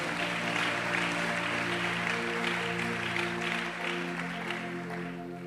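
Congregation applauding in a church, a steady wash of clapping from many hands over a sustained organ or keyboard chord, fairly loud and continuous throughout.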